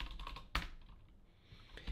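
Keys clatter on a computer keyboard as a git command is typed at a terminal: a few soft taps, then one sharp louder keystroke, then a quiet pause before another tap, close and faint with no talk.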